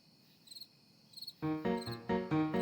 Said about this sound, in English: teaches kids about the cricket's chirp